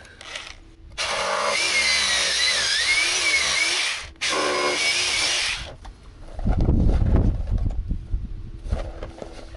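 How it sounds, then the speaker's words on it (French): A power drill bores through pond liner outdoors in two loud whining bursts with pitch changing under load, followed by rough rustling and scraping handling noises. "Ici bien sûr il faut percer la bâche"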